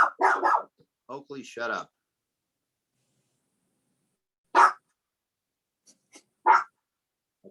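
A dog barks in a few short, fairly close bursts, separated by quiet gaps, just after a person speaks.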